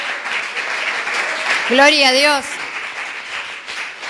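A church congregation applauds to the Lord, a fairly even spread of clapping at moderate level while a voice cries out with a rising, wavering exclamation in the middle.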